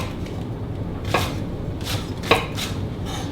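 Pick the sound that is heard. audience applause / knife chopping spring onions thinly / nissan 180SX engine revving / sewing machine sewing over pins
knife chopping spring onions thinly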